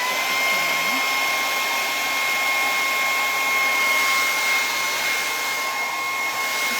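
A hair dryer runs steadily while drying a freshly painted stencil board, giving a constant loud whooshing blow with a faint motor whine that holds unchanged for several seconds, no talking over it.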